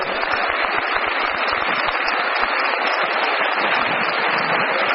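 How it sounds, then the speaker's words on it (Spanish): A big audience at a live event breaks into dense, loud applause that holds steady throughout, with no voices standing out. "un gran aplauso."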